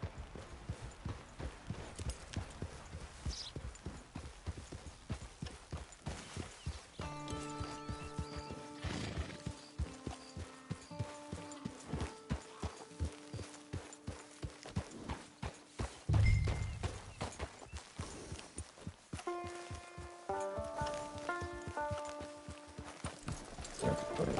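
Steady clip-clop of horse hooves walking at an even pace in a PS4 video game, with a horse whinnying partway through and faint mechanical clicks in the background.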